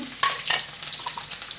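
Crushed garlic drops into hot oil in a wok and sizzles sharply, followed by a few scraping stirs in the pan, close and crackling, no talking.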